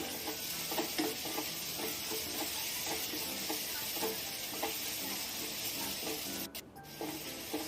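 Onion and tomato gravy being stirred and mixed in a pan, with a steady close sizzle and repeated soft scraping strokes throughout. A brief dip comes near the end.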